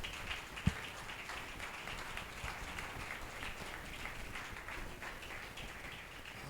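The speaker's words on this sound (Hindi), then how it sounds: "अपने लिए जोरदार तालियां बजाएं।" A congregation at a church service claps faintly for itself, soft, distant patter of hands throughout, with a single sharp knock early on.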